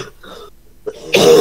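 A young boy coughs a couple of times, fairly close and clear, with a louder burst of noise following.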